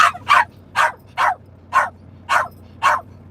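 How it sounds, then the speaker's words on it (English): A dog barks seven times in a steady, evenly spaced rhythm, each bark sharp and loud close to the microphone over a faint low hum, with no talking. "Well, come here, Barky McBarkerson."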